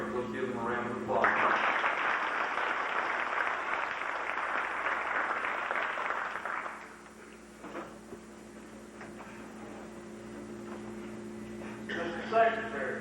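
An audience at a county FFA banquet breaks into loud applause for about five seconds, then it fades, leaving a quiet room with electrical hum and faint talk.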